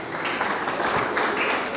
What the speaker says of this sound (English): A big round of applause to all the three people.